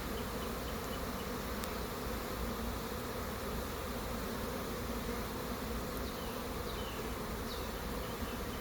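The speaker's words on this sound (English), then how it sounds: "I'm only like 2 feet away from the hive box here, and they're just nonchalantly flying around me," Honey bees fly around a hive box about two feet away, making a faint, steady, buzzing hum of many insects with no voices.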